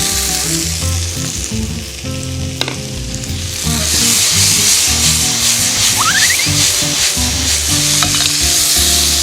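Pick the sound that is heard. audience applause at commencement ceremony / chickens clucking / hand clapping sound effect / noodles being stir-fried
noodles being stir-fried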